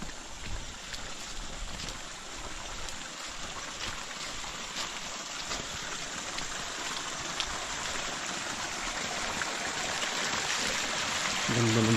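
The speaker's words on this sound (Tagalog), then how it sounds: "Ganda ng falls eh." A small mini waterfall in a lanzones and mangosteen orchard pours with a steady, soft rushing hiss, moderately distant and continuous, with a brief voice at the very end.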